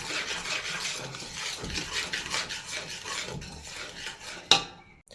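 Beignet dough being stirred and worked in a bowl, a steady close scraping and rubbing that runs continuously, ending with one sharp knock near the end.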